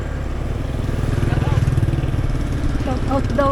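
A motorcycle engine drones steadily at close range through a joy ride at sunset, a low continuous hum running under people talking.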